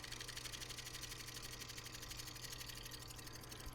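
Lathe spinning a burl wood bowl while a gouge cuts with steady pressure, a fast even rattling chatter with continuous hiss of shavings, close and constant throughout.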